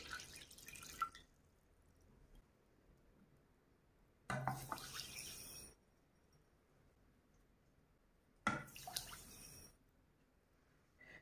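Water is poured into a pot to make baklava syrup, arriving in three separate short splashing pours with quiet gaps between them, close and fairly soft.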